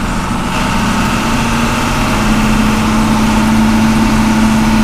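John Deere 4230 tractor engine running at around 1,800 RPM while climbing a hill on a farm, a steady, loud, close diesel drone with a strong low hum throughout.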